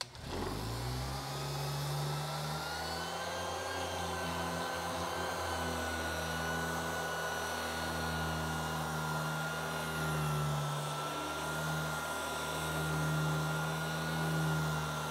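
A Jellas 3.8 amp random orbital sander runs steadily at its lowest speed, a close, continuous motor whir with a low hum and a faint high whine that holds even from start to finish.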